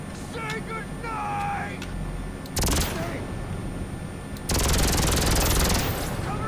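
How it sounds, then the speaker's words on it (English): Gunfire crackles in the Mercenaries video game, one long burst of dense automatic shots starting partway through and a second heavy burst near the end, with a brief voice early on and engine-like rumble underneath. "I don't know where I'm getting shot from there."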